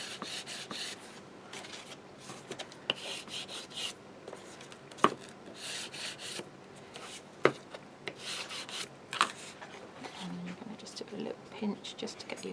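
A bone folder rubs over a craft album cover in short, soft scraping strokes with a few sharp taps. The strokes sound close and quiet, with light talk mixed in.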